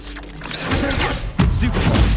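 Expelliarmus disarming spell fired in Hogwarts Legacy, a whooshing magical burst with rumbling impact and mechanical crunch layered over dense game combat noise, loud and continuous with a sharper hit near the end.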